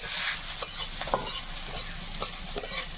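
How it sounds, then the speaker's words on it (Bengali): Dried chili and chopped onion frying in hot oil in a home Bengali kitchen, a steady close sizzle with a few clinks and scrapes of stirring, no talk. "তেলের মধ্যে একটু শুকনো লঙ্কা একটু পেঁয়াজ কুচি"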